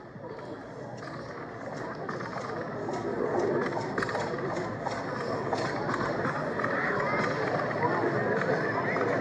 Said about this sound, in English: In the horse and tractor category was Lizzie's horse and buggy